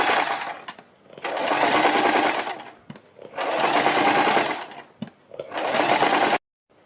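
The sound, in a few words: sewing machine stitching a suit neckline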